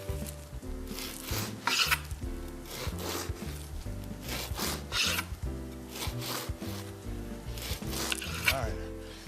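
A knife saws through thick slices of bread to cut pockets for stuffed French toast, giving rhythmic rasping strokes up close over steady background music.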